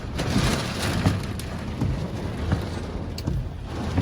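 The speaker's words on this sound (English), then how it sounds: "I couldn't continue the process because the rains you saw right now, like it's raining cats and dogs" Heavy rain at a building site in Ghana, a dense, loud downpour hissing without a break, with low rumbling thunder and scattered impacts close by.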